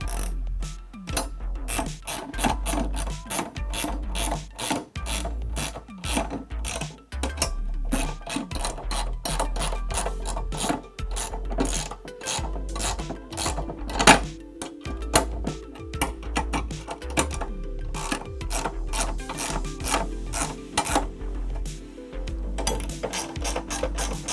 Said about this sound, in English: You'll take your 13mm and tighten these down.